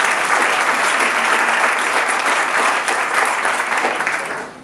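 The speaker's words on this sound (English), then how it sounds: "That deserves a round of applause." A crowd at a school headmaster's social breaks into loud, close applause with full, steady clapping that fades out in the final half second.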